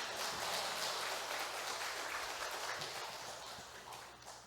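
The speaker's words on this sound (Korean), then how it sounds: "우리 정대수 선교사님 나오실 때 우리 할렐루야 뜨겁게 좀 박수로 축복하며 맞이하면 좋겠습니다" A church congregation applauds warmly to welcome a missionary to the front, a dense, steady wash of clapping that holds loud throughout and fades slightly toward the end.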